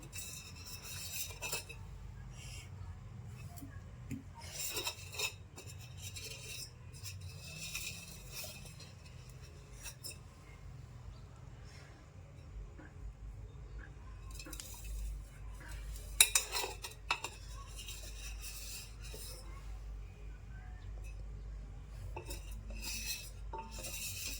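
Faint metal scraping and scratching as a dried cream crust is scraped from a pot, in intermittent bursts with quiet pauses between, soft and close.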